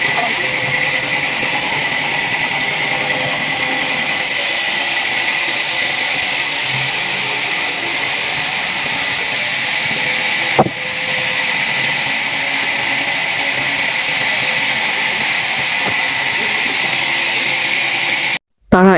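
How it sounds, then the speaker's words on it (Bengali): Sawmill machine cutting a rain tree (koroi) log into planks, a continuous loud mechanical whine and roar with a sharp knock partway through and an abrupt stop at the end. "বিসমিল্লা বললে মেশিন স্টার্ট দিয়ে দিল এবং শুরু হয়ে গেল গাছ চেরাই করে তক্তা বানানোর"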